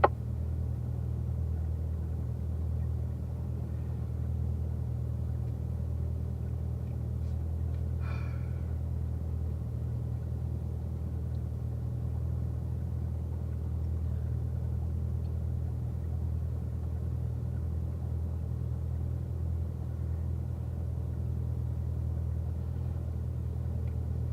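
A race car idles at Spring Mountain before rolling out on cold tires and brakes, a low steady engine rumble that holds even and close throughout, with no talking over it.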